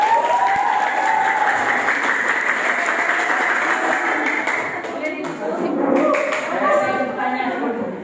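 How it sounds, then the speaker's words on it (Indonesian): A classroom-style audience at a teacher training presentation gives sustained clapping, fairly loud and steady, thinning toward the end as voices rise beneath it. "Kasih tepuk tangan sekali lagi"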